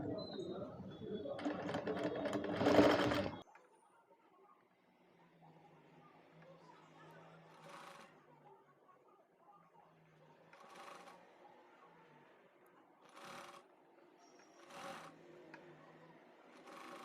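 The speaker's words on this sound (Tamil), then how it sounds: "ஒரு ஸ்டிச் போடணும்." A sewing machine stitches a frill frock in a fast, loud burst of whirring that stops abruptly, followed by quiet room noise and a woman's occasional speech.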